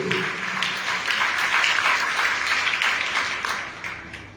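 A church congregation applauds during a Pentecost Sunday Mass, steady dense clapping filling the space for several seconds before tapering off slightly at the end.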